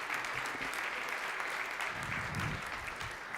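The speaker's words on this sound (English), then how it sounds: "This deserves your applause." Steady, fairly faint applause from an audience at a Europe Forward conference, continuous throughout with no break and heard from some distance.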